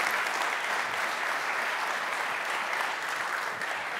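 Applause from a conference audience at a tech event talk on electrical grid innovation and security, a continuous even wash of many hands clapping, full and sustained without pause.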